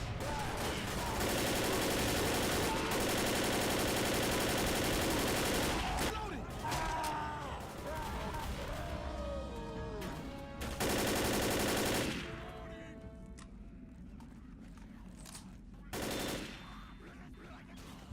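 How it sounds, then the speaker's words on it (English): M16 assault rifle fire in a horror-action video game, long sustained automatic bursts that stop and start again, loud and dense, with a quieter stretch of other game sounds between them. "M16 assault rifle."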